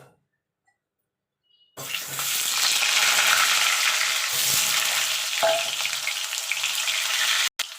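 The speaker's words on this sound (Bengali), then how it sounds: "বাকি যে আলুগুলো আছে সেগুলো আমি ভেজে নেবো" After a brief silence, potatoes start frying loudly in hot oil for Bengali aloo dum, a dense, steady sizzle that carries on to the end.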